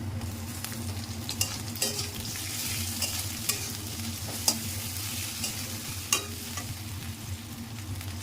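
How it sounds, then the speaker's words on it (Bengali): Onions frying in a pan with ginger-garlic paste, a low steady sizzle under a faint hum, broken by sharp spatula scrapes and taps every second or so, close by with no voices. "আমার এখানে পেঁয়াজটা ভাজা ভাজা হয়ে গেছে, আমি এবার দিয়ে দেবো আদা রসুনের পেস্ট"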